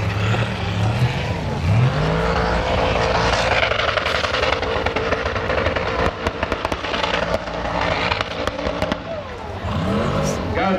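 A loud Formula Offroad race car engine roars and whines with a rising turbo whistle, revving up and down close by at a Finnish event, with a voice talking over it.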